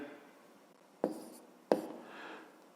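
Pen or chalk writing out the second step of a fifth-grade math exercise, heard as two sharp taps followed by faint scratching strokes, quiet and close with no talk.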